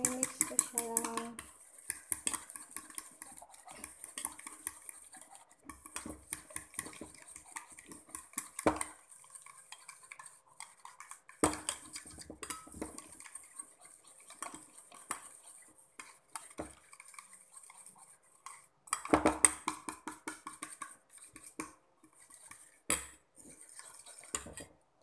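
A spoon stirs and whisks dalgona coffee against a glass or cup in quick, uneven clinking bursts that run on and off, with quiet talk between them.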